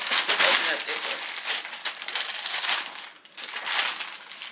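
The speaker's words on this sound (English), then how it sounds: "I got my second package. Which, let's open up this one." A plastic mail package is handled and torn open up close, a run of crinkling and crackling with a short pause before the rustling resumes.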